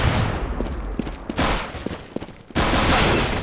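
Rapid bursts of gunfire from Counter-Strike on the de_dust2 map during a professional esports match, loud volleys with brief gaps between them, mixed with game noise and no talk.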